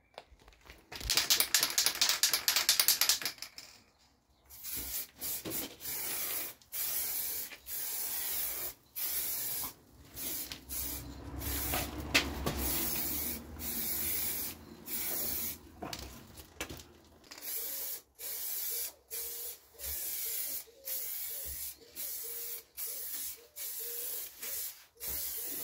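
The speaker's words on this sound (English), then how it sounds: "Let's spray the rear valance." A spray can hisses in repeated short bursts over the rear valance of a 1975 Vauxhall Viva barn find, the steady close hiss broken by frequent brief pauses.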